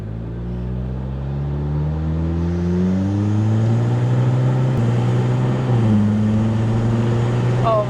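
A Nissan Juke NISMO accelerating hard in sport mode on a straight road, its engine note climbing steadily in pitch, dropping briefly at an upshift and then rising again, loud and heard from inside the car.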